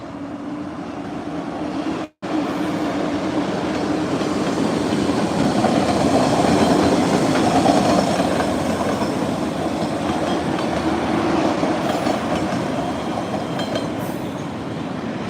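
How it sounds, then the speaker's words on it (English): MBTA Red Line Ashmont subway trains rumble steadily along the tracks, a loud continuous roar with faint clatter that holds for the whole stretch. "You have Ashmont trains crossing over."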